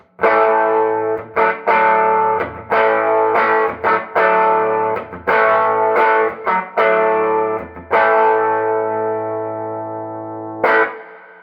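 Loud, heavily overdriven electric guitar strums a series of sustained chords through a boosted Peavey Classic 30 1x12 tube amp with EL84 tubes, each ringing out before the next hit.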